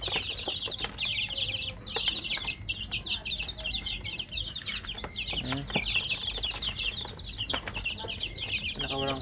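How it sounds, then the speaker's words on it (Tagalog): Ducks feed noisily together, with a dense, constant chorus of clucking and chattering calls, pecking sounds and an occasional brief flutter, fairly close and continuous throughout. "malakas kumain tong itik na ito"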